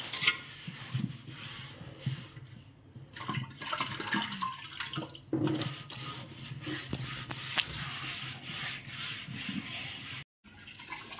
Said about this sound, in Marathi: बाहेरील बाजू सुद्धा आपण याच पद्धतीने या पाण्याने अशी चोळून घ्यायची